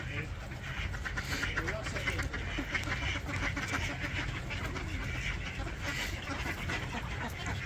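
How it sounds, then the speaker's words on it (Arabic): Wild mallard ducks bred in captivity quack in a steady, busy chorus close by, with someone talking over the noisy flock throughout. "هذا كله خضير بري"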